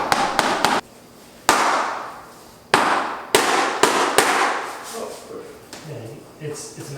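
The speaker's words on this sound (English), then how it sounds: "like you actually gotta hammer it" Sharp hammer strikes on pieces being knocked loose during a house renovation, a handful of loud irregular impacts with short pauses between them, fading into quieter clatter and people talking at the end.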